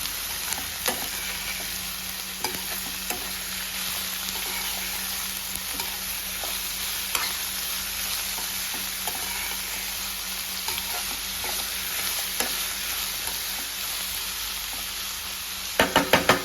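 Vegetable curry stirred in a pan on the stove, with a continuous close sizzle and soft scraping throughout, ending in a few quick knocks against the pan.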